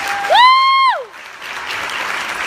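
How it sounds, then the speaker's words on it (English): Pageant audience applause, opening with a brief rising whistle-like whoop that holds and drops away, then a steady wash of clapping from the crowd continuing to the end. "Let's have a big round of applause for Samantha Riddle, your director."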